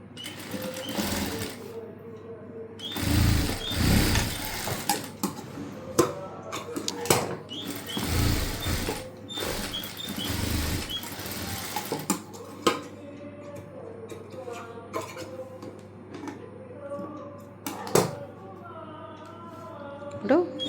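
A sewing machine stitches a back-open, front princess-cut blouse in short bursts of rapid whirring, starting and stopping several times, with someone speaking between and over the runs.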